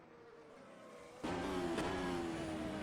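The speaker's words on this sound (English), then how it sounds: "He's revving out at 334 kilometers an hour. Completely revving out as well." A race car in a sim racing video game, at a Canada round, engine screaming at high rpm: a quieter drone suddenly jumps to a loud, sustained, buzzing whine near the rev limiter and holds there.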